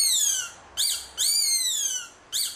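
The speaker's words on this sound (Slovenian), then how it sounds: "Z zvokom čivinga so privabili ptice." Bird-call whistle (čivink) once used to lure birds onto lime sticks in a spruce: four bright, chirping whistled tweets with rising and falling sweeps, close and clear, in separate bursts with short gaps.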